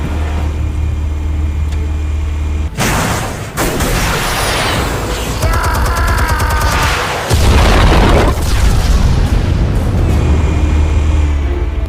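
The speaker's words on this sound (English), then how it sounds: "Explosives armed. Fire when ready." Explosives detonate in a Batman video game scene, heavy booming blasts and crashing debris breaking over a constant low engine-like drone, loud and close, with no talking.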